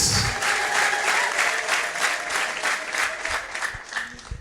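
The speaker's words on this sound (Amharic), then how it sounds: "ክብር ላይ አጨብጭቡ ለኢየሱስ።" A church congregation applauding for Jesus, sustained loud dense clapping from many people that fades slightly toward the end.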